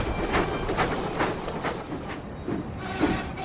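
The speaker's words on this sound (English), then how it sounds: "Later, Thomas puffed back to the Sodor Steamworks." Thomas the steam engine puffs along the rails toward the Sodor Steamworks, giving a steady run of rhythmic chuffs with a rolling clatter underneath. No one speaks.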